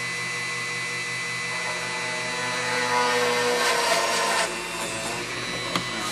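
Steady rasping of a scroll saw cutting through wood, continuous and close, growing slightly louder midway before easing, with a brief click near the end.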